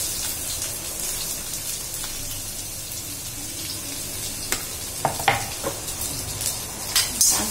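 Onion and chili fry in a mustard seed, cumin and curry leaf tempering, a steady close sizzle with a few sharp crackles and spatters toward the end.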